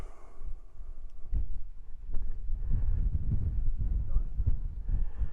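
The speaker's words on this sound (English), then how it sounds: "I'm glad we've got a little bit of wind because it's cooling me down a bit" Wind gusts across an open Dartmoor hilltop near East Mill Tor, buffeting the microphone as a steady low rumble that swells and eases throughout, with no voices.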